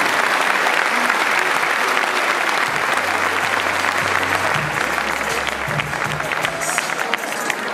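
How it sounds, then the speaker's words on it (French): Dense, continuous applause from a theatre audience at a stand-up comedy show, welcoming a mentalist's opening act; loud and steady for the whole stretch with no break. "on l'applaudit très fort s'il vous plaît"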